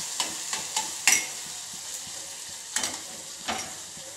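Onion fries in a pan with turmeric while a spoon stirs it, giving a steady sizzle broken by several sharp scraping clacks against the pan, close up and without speech.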